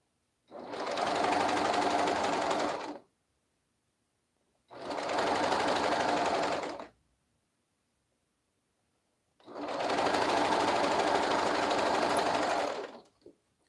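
A sewing machine stitches a romper in three loud, even bursts of rapid whirring, each a few seconds long, separated by silent pauses.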